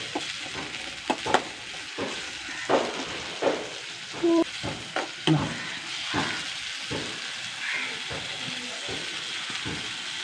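Sliced onions and curry leaves fry in a hot pan with a steady, close sizzle, broken by scraping stirs and clinks of the spoon.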